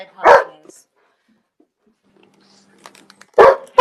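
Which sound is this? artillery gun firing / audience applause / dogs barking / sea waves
dogs barking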